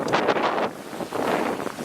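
Wind buffeting a microphone out on the open water during a sailboat race, loud gusting rumbles in two surging waves with no one talking.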